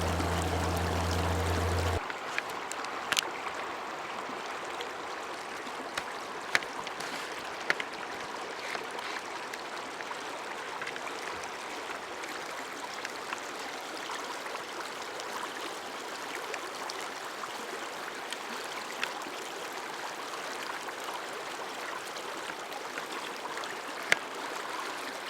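A river flows steadily with a continuous close rushing and burbling, with occasional small splashes or knocks over the water noise.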